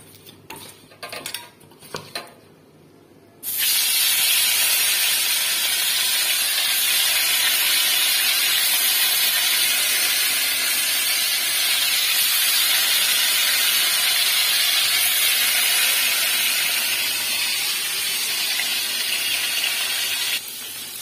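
Foli fish coated in salt and turmeric sizzle in hot oil in a wok, starting with a few clinks and knocks before a loud, steady frying hiss takes over and holds for the rest of the clip.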